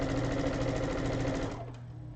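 A sewing machine runs in a steady, fast stitching rhythm while joining baby quilt blocks together, close and loud, then slows and stops near the end.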